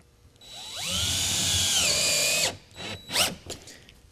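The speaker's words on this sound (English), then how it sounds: "I'm going to put the first screw through." Power screwdriver driving a screw through a metal roofing clip: a rising whine that holds for about two seconds, stops, then a few short follow-up bursts, close and clear.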